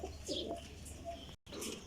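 Pigeons coo softly in a loft, low murmuring calls repeating a few times at a moderate distance, with a brief dropout partway through and no talking.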